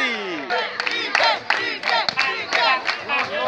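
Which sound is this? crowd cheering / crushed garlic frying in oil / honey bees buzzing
crowd cheering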